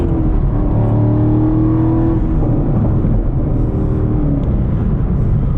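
A sixth-generation Chevrolet Camaro launching hard from a standstill with traction control on, its engine roaring loud and close as the revs climb and shift through gears, with no talk over it.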